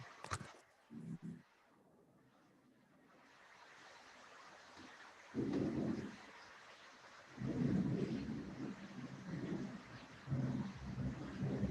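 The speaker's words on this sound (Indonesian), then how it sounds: "di sini sedang hujan deras" Heavy downpour with thunder outside, deep rumbling swells rising and falling in several bursts over a constant hiss of rain, moderately distant and fairly quiet overall.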